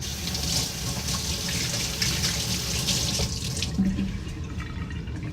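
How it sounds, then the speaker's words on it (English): Tap water pours steadily into a kitchen sink while hands are rinsed under it, a close, continuous splashing rush that eases slightly near the end, with no talk. "I'll rinse off my hands again."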